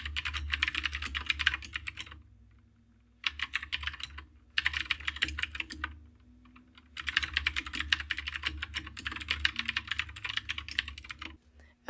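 Code typed on a computer keyboard in quick bursts of close, crisp key clicks, broken by short silent pauses between runs of typing.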